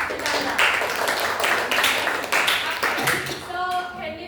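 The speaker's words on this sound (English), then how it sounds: "Give applause to Chandra." Classmates clap for a student after a fried-rice cooking presentation, a lively run of applause filling the room, mixed with voices, then tapering as a speaker's voice comes through at the close.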